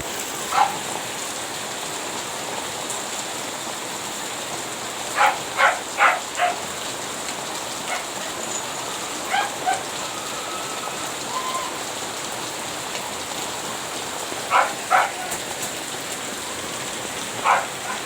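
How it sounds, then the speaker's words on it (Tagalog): Heavy rain pours down in a steady, dense hiss, broken now and then by louder individual drops and splashes landing nearby; no one speaks. "Umuulan, lakas."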